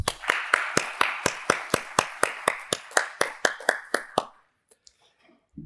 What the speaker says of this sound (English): Can we welcome her with a round of applause?